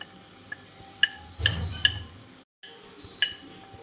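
A utensil stirs dry herbal powders into warm hair oil in a double boiler, making a few sharp clinks and scrapes against the vessel over a low, quiet bubbling, with a brief dropout partway through.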